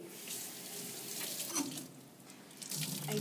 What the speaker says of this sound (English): I don't want it to be real wet, just damp. So I've wrung the water out of there.